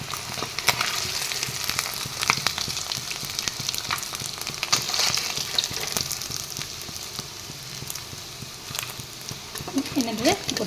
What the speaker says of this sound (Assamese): এয়া দেখিছেনে, মাছখিনি ফ্ৰাই হৈ গ'ল।